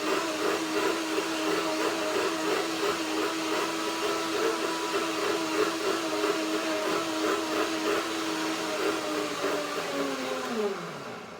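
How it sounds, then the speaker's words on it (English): A blender whirs steadily at high speed with a buzzing, grinding tone while blending unsoaked nuts, then winds down at the end. "So now blend again, and then I will pour it."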